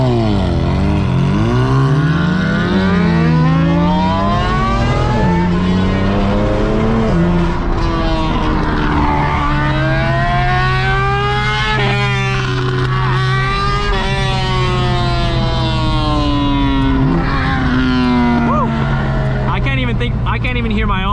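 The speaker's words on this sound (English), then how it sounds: "I can't even hear my own downshifts" A loud M4 car engine revs up and down continuously while driving, pitch rising and falling with downshifts and gear changes, close and dominant throughout.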